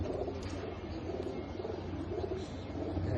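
Pigeons coo softly and repeatedly on a city rooftop loft. The birds are silver, beji, army and jira-necked bagha breeds, and their low murmuring cooing continues steadily over a constant background hum.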